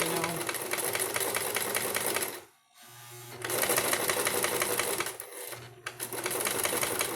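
A sewing machine stitches a fabric face mask in rapid mechanical bursts, running steadily, pausing briefly, then resuming for a back stitch, close and fairly loud.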